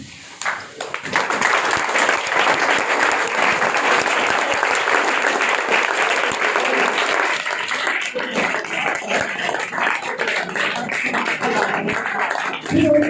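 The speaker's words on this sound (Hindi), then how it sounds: "अपने पैरों पे खड़ा होकर उन्हें जोरदार तालियों से स्वागत करें प्लीज" At a farewell ceremony for a retiring academic official, the audience stands and applauds loudly. The thick, continuous clapping holds steady for over ten seconds before thinning near the end.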